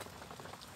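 Rain falls steadily on a surface, a continuous soft patter with no voices, heard while people shelter under a roof during a morning walk.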